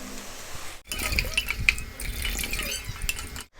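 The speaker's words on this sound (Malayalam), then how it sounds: "ഇനി ഇതിലേക്ക് ആവശ്യമുള്ള വെള്ളം ചേർത്ത് കൊടുക്കാം." Water splashes and trickles into a pan of Kerala-style roasted-coconut chickpea curry (varutharacha kadala curry), with steady close pouring and light clinks of cookware.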